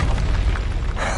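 A booming Confringo spell blast from a video game, a dense, loud low-end burst that rolls continuously through the moment with a fresh surge near the end, no talking over it.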